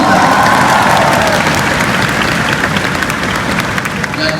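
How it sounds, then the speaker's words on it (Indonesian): A large audience at a state-owned-enterprise recruitment launch event at GBK stadium in Indonesia breaks into loud, dense applause, sustained for several seconds and easing slightly toward the end. "Tepuk tangan nih."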